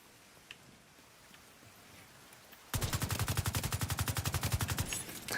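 A long burst of rapid automatic gunfire in a shooter game, with the player firing at enemies, cuts in abruptly after a quiet spell, each shot distinct in a fast, even rhythm, loud and close.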